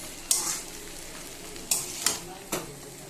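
Chowmein with seasoned meat is stir-fried and tossed in a pan, with a soft sizzle under four sharp scrapes and clinks of the utensil against the pan.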